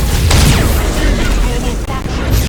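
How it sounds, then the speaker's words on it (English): Nova cannon firing during a Battlefleet Gothic: Armada space battle, a heavy boom with a sweeping whoosh near the start, followed by rumbling game effects and mechanical noise. "Nova cannon on these small ones."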